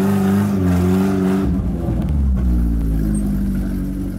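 A stunt car's engine revs hard and accelerates on a slippery surface inside a volcano set, with a loud close roar climbing in pitch, then settling into a rough rumbling drive.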